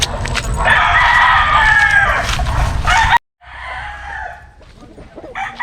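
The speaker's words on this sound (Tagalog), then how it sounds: "nandito na nga tayo sa manukan ni Boss Ray" Chickens and roosters at a Filipino chicken farm, loud crowing and clucking close by with a dog barking among them, a brief break, then more crowing.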